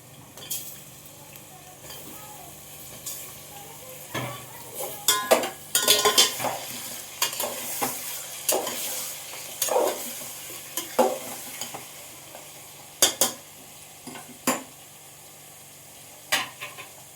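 Mutton tipped onto browned fried onions in a pan for mutton aukni, then stirred and fried: a steady close sizzle broken by repeated scraping and clattering stir strokes, with no talking.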